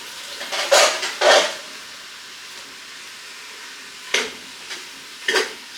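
Asparagus and garlic shrimp stirred in a frying pan, heard as two quick scraping strokes early on and two more later, close and fairly loud over a quiet background with no talking.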